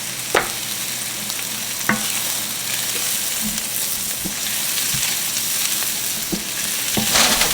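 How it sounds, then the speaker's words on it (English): Frozen homemade garlic sizzles in a pan, a steady close hiss broken by occasional sharp clicks and scrapes of stirring, no talk. "We're just gonna add in a little garlic."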